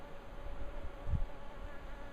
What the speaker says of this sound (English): But there's certainly plenty of bees in there.